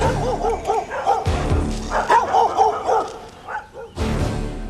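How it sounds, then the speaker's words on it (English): Vicious guard dogs trained to attack, barking and yipping in rapid bursts, loud and close, with a few whimpers and short pauses between volleys. "Our specially equipped surveillance unit was repelled by vicious guard dogs trained to attack on sight."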